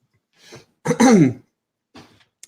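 A close, single harsh cough or throat-clear bursts out, preceded by a soft breath and followed by a faint trailing exhale.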